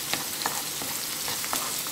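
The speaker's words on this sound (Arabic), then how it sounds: "وهقوم حاطة دلوقتي على طول الثوم المفروم. ونفضل نقلبهم مع بعض" Minced garlic sizzles in a hot pan while being stirred, a steady close frying hiss broken by soft scraping strokes, with no voices.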